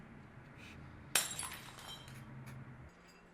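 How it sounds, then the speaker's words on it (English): A drinking glass shatters in one sudden loud crash, followed by a brief tinkling of falling shards that fades out, with no talk. "I broke the glass."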